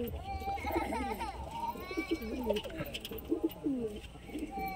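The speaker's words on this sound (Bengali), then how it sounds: "বন্ধুরা, এগুলো বাচ্চা পায়রা।" Young pigeons at a pigeon keeper's home giving soft warbling coos in quick overlapping bursts, close and steady over low background murmur.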